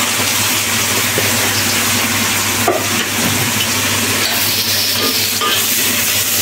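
Onions frying in a pan while cooking Malabar spinach with dried fish and potatoes, a loud steady sizzle with occasional stirring clatter.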